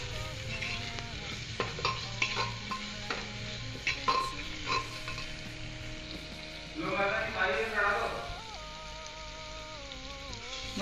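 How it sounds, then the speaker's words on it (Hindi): Turmeric and coriander powder being stirred and fried in a pan, soft sizzling with scraping spoon strokes and a louder burst of frying partway through, faint and close. "हल्दी, धनिया पाउडर, सभी को अच्छे से मिलाएंगे।"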